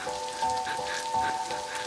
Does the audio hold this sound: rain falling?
yes